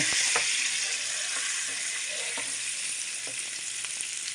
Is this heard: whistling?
no